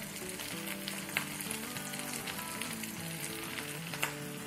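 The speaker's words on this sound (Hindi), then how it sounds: "बस इसको हम 2 मिनट सॉटे करेंगे प्याजों के साथ और अदरक लहसुन" Onions sauté with ginger and garlic paste in a pan, a soft, even sizzle with a couple of brief clinks of a spoon, under faint background music with no voices.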